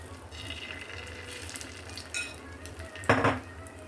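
Egg and bread mixture frying in a pan, a low steady sizzle with a few soft scrapes and one sharper clatter of a spoon or utensil near the end, no talk.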